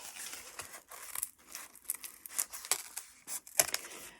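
Close, rustling crinkles and tearing snips as packing material is cut in half, in an uneven burst of short crackling strokes.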